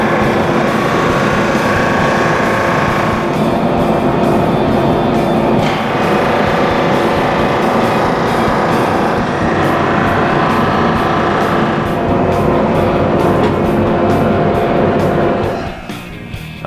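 A drum sander grinds across an end grain wooden countertop, a loud continuous mechanical roar with a gritty rasp that holds steady for most of the pass before cutting off at the end.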